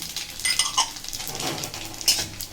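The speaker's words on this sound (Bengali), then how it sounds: "তেল গরম হয়ে গেছে, এবার 1 টিস্পুন জিরে আর 1 টিস্পুন মৌরি দিয়ে দিলাম" Cumin, fennel and dry chillies sizzling in hot oil in a kitchen pan, faint and close, with scattered light metallic clinks and stirring scrapes over a soft crackle.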